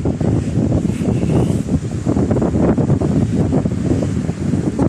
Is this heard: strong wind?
yes